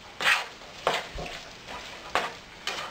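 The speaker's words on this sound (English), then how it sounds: "mix it together" Crab meat is mixed with dry white wine, heard as four or five separate wet, scraping stirs, each a short soft burst with brief quiet gaps between, close and fairly faint.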